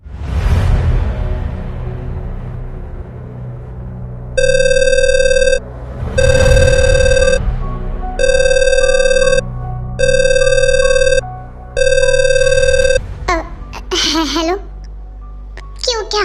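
A telephone rings in five evenly spaced bursts of bright, electronic-bell tones, each about a second long with short gaps between, loud and near, with whooshing and talk around them.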